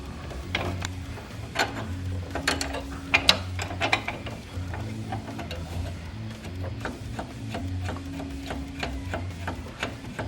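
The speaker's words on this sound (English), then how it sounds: "Next up, you want your 10mm brake spanner and undo the brake line on the back." A 10mm brake spanner ratchets at the brake line on the back of a Datsun during a wheel bearing job, giving close, irregular metallic clicks and clanks with scattered sharp taps.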